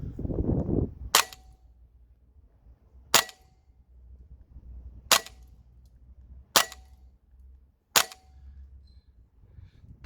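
Five crisp, sharp cracks from a Tokyo Marui full-size USP airsoft pistol firing 0.2 gram BBs on green gas outdoors, spaced about one and a half seconds apart against quiet ambience, after a brief rustle at the start.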